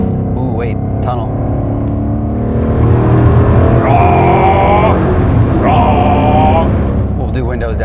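A 2018 Mustang GT with Corsa Sport exhaust and Performance Pack 1 accelerates through a tunnel, its loud engine rising to a swelling roar that echoes off the walls, with people talking inside the car early on.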